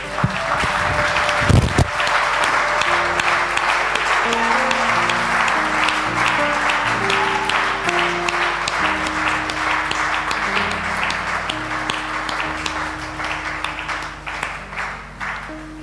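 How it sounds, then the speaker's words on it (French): A church congregation applauds in a dense, steady wash of clapping that lasts the whole stretch, with music tones sustaining underneath and a brief loud thump near the start. "Nous allons acclamer pour le Seigneur et pour toi-même."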